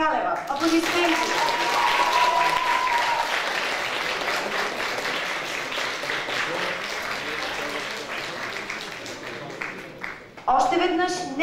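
At a school sports award ceremony, a crowd gives the first-place winner sustained, full applause, a thick wash of clapping that holds steady and then drops away, with a voice briefly heard at the end.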